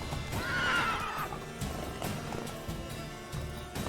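A horse in The Witcher 3 neighs once with a shrill whinny, followed by clip-clopping hooves under game sound.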